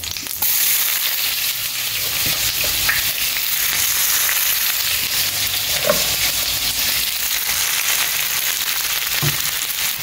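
Onions dropped into hot oil with cumin seeds while cooking brinjal bharta, a loud, continuous close sizzle and crackle with occasional spatters and stirring knocks throughout.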